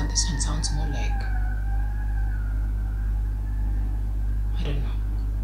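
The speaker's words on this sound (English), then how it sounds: "that sounds like an ambulance. Or is it fire?" Emergency vehicle siren, likely an ambulance or fire truck, wailing steadily at a distance under a loud low hum, with a few brief sharp sounds at the start and near the end.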